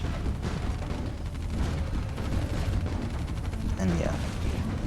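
Rocket towers fire in Art of War 3, a real-time strategy game, amid a dense, continuous barrage of overlapping gunfire-like bursts and blasts. A voice talks over the steady battle din.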